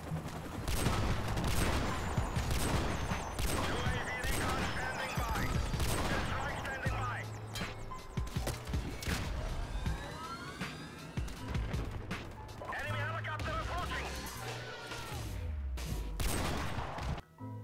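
Call of Duty match with rapid sniper quickscope headshots and a five-kill multi-kill, dense bursts of gunfire and impacts over a steady game music bed, loud and continuous with brief lulls.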